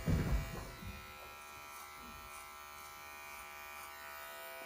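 Electric hair clippers buzz steadily close by while trimming a child's hair around the ear, a brief louder bump at the start before settling into an even, constant hum with no talking.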